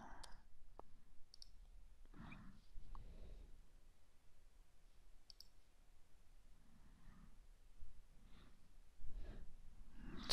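A computer mouse gives scattered sharp single clicks with quiet gaps between them, and soft breathing and small handling noises sit in the background.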